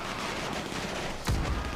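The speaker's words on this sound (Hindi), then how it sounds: "और कितनी गोलियां चल रही है यार" Video game gunfire crackles in a dense continuous burst, with a sharper, louder blast near the end standing out over the steady barrage.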